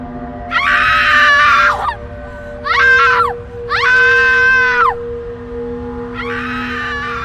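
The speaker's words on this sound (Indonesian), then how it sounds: "Sewaktu melihat mayat abangnya, adik perempuan Kinana menjerit histeris." A woman screams hysterically at the sight of her brother's corpse, in four loud, drawn-out wailing bursts separated by short pauses, the last trailing off toward the end over a steady low background hum.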